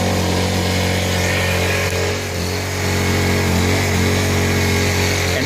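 A Honda EU1000i inverter generator with a bad-running engine and choke partly on runs loud and close, a steady droning hum with a slight waver in revs, with no other sounds over it.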